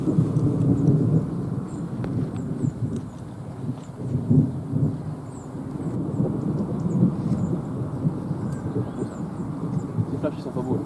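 Low rolling thunder from a thunderstorm in France rumbles on and off in open air, a broad continuous growl with several swells, faint voices and insect buzz underneath.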